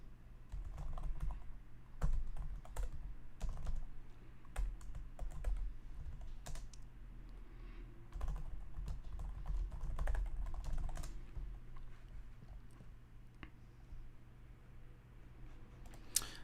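Rapid, uneven clicks of typing on a computer keyboard continue for several seconds, close-miked over a low background hum.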